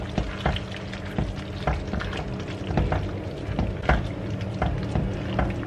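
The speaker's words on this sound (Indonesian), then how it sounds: "Oke, masukkan lagi sambil diaduk." Lo mie sauce thickening in a pan is stirred steadily, with soft scraping and light knocks of a utensil against the pan over a low, continuous bubbling sizzle.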